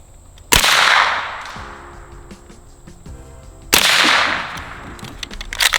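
Two loud gunshots about three seconds apart, a full metal jacket round then a hollow point from a .300 Blackout or 9mm fired at drywall, each a sharp crack with a decaying echo, with faint clicks between them.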